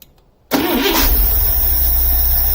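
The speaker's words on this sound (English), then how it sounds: "Just to show you that this carburetor runs and what I've done to it. I'm just going to start it up here." A cold car engine fitted with a Holley carburetor cranks briefly and catches after about half a second, then settles into a loud, steady idle that runs to the end.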